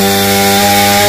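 A chainsaw cuts through a golden wattle tree, roaring loud and continuous at full throttle with a dense, steady buzzing whine throughout the short moment.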